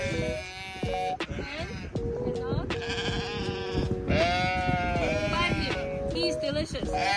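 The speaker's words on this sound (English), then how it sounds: "Sheep's over here." Sheep bleat repeatedly on a farm, loud overlapping wavering calls from several animals nearby, with people talking quietly in between.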